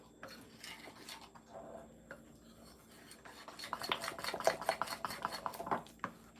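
A spoon stirring oil-based flavoring into melted candy coating for apple cinnamon dessert popcorn, soft scraping and clinking against the bowl that grows busier and louder toward the end, with no voices.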